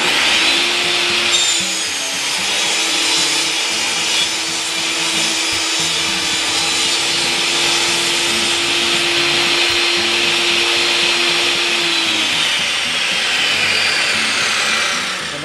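A saw blade cuts through wood for a treasure box top, a loud continuous whining roar that holds steady for about fifteen seconds with a higher pitched tone riding over it mid-cut.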